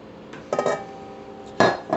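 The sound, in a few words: cracked eggs put into a big mixer bowl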